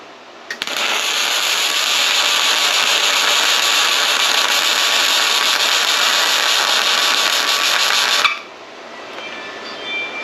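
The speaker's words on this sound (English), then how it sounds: "we got it making some really nice welds here on the metal" A Sefaspe 205A MIG welder lays a steady, loud, crackling practice bead on metal for about eight seconds, starting and stopping abruptly, with no talking.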